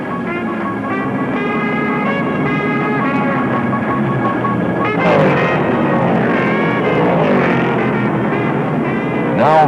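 Stock car engines roar steadily on a major race track with cars running together in the draft, a sustained droning engine note with a sharper surge of passing engines midway, continuous throughout.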